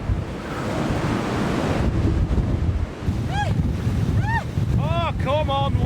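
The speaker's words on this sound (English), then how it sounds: "I can hear the wind" Strong storm wind buffets the microphone beside a choppy sea at Stoer Lighthouse, an 1870 lighthouse on a coastal clifftop. Crashing surf rumbles underneath, and several short high whistling cries cut through near the end.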